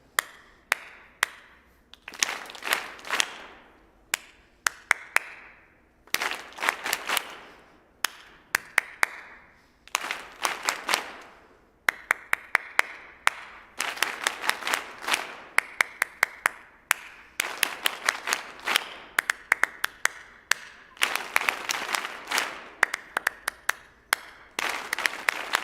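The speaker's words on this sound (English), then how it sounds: "now whatever I play, you clap, respond to me" Audience members at a Millennium Stage percussion performance clap rhythm patterns back and forth with the performers, sharp crisp bursts of many hands in call-and-response phrases separated by short pauses.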